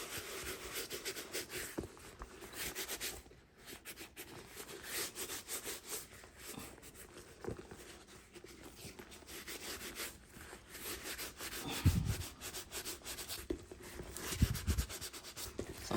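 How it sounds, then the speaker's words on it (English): Soft cloth rubbing leather cleaner into a Coach handbag, a steady low scrubbing and swishing texture that carries on throughout, with a few heavier strokes and handling bumps near the end. "Rub it on, let it soak in, and then I'll go over it with the soft cloth."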